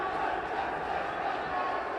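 A hockey crowd at a high school game against Fairfield Prep roars steadily after a fight on the ice. The noise is a dense, sustained wash of cheering and shouting, with a commentator talking over it.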